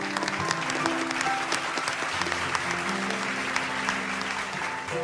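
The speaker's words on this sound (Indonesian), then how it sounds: "Boleh kita berikan tepuk tangan yang paling meriah?" Lively studio audience applause for a young guest and his father on a TV show, sustained and fairly loud, with music tones running beneath the clapping throughout.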